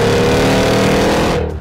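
A 2023 Cadillac Escalade V engine roars under full throttle, a loud close surge lasting only a moment and ending abruptly, with no talk.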